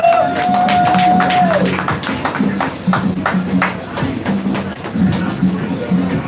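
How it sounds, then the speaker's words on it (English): Audience applause for a couple at a lecture series gathering: a distinct, sparse clapping rhythm under a sustained tone that fades early, with a voice speaking over it. "let us please give a warm round of applause to a beautiful couple, Brother Brian and Sister Monica Sanders"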